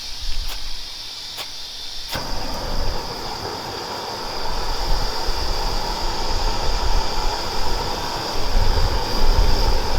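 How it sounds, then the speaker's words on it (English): An MSR Pocket Rocket gas stove is lit with a fire steel: two or three sharp scrapes, then a steady roaring hiss of burning gas that carries on loud and continuous to the end. "in order to get this lit, I tend to use a fire steel"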